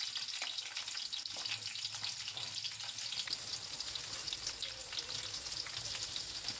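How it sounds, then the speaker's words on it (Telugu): Onions frying in oil with green chilies and curry leaves for a fish curry, a bright, continuous crackling sizzle close by with soft occasional stirring, steady throughout. "సాల్ట్ వేసి పసుపు వేస్తే మనకి త్వరగా ఆనియన్స్ అనేవి ఫ్రై అవుతాయి"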